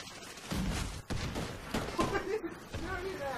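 Bursts of gunfire from the video game Medal of Honor Warfighter, sharp repeated shots and thuds in short clusters, heard under people talking.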